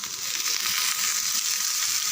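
Steady, loud sizzling of banana flower frying with sautéed onions in a pan, a continuous bright hiss with faint crackle throughout and no voices.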